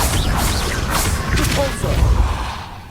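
A Confringo fire spell cast in Hogwarts Legacy bursts with a loud blast and crackling impact over rumbling low end, amid ongoing combat sounds that fade slightly toward the end.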